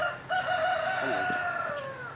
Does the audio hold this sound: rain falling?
no